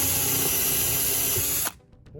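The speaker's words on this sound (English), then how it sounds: "let's drill this rivet out" A power drill bores out a rivet on a Getaway pinball machine ramp flap, running at a loud steady whine for over a second before cutting off abruptly and leaving faint clatter.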